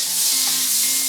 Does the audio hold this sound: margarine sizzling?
yes